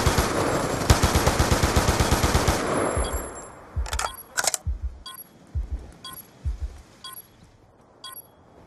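Rapid automatic gunfire rattles in a capture-the-flag video game match, a loud sustained burst followed by a string of sharper, spaced single shots trailing off, with no talk.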